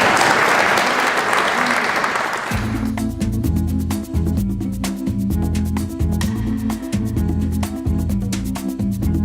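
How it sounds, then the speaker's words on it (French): Audience applause at a gathering after a cathedral ceremony, a dense broadband clatter of clapping for a couple of seconds before steady rhythmic music with a pulsing beat takes over. "Vous pouvez les applaudir"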